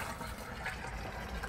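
Liquid comfrey fertilizer pours steadily from a 50 gallon drum, a continuous close splashing and gurgling wash of water that runs without a break for the whole moment, with no voices over it.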